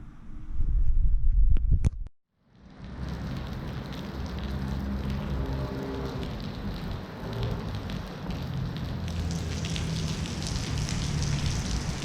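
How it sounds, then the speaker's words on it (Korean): Heavy rain pours down in a steady, close wash after a brief silent break near the start, with no one speaking. "비가 좀 많이 내리고 있습니다"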